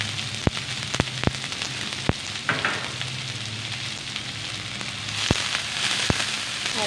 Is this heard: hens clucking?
no